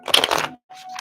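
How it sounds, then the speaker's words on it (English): A deck of playing cards shuffled during a live card reading, a dense riffling burst for about half a second, a short pause, then a softer second run of card noise, close and alone. "One more shuffle."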